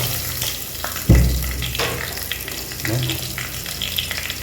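Crushed pepper spices being mixed and fried in oil for village-style pepper rasam, with a loud sizzling burst as they hit the pan, followed by steady frying hiss and stirring.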